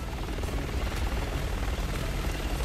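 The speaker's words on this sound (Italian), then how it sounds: "tirate giù l'elicottero, fatelo a pezzi" Loud, steady rotor roar of a helicopter in Resident Evil 6, filling the whole stretch as continuous dense noise with no speech over it.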